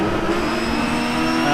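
Engine of a 1971 Porsche 917 race car revving steadily in the rFactor 2 racing game, a loud, continuous droning roar with strong harmonic whine held close throughout, no voices.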